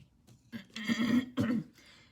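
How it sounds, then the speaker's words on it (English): A person clears their throat twice in quick rasping bursts, close and fairly quiet, with a pause between them. "I'm clearing my throat"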